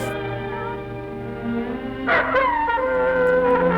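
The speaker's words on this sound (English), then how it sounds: "There's a melancholy howling of the wolf." A melancholy wolf howl rises in the intro of the 1937 film A Star Is Born, a long sustained tone over a steady orchestral drone that swells and brightens partway through.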